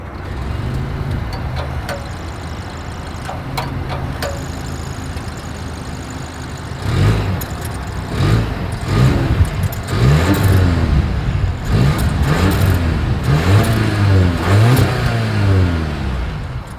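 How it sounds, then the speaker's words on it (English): A 2023 Volvo S60 engine idles, then revs up repeatedly in short bursts, its exhaust note rising and falling loudly up close. "Here is that exhaust clip."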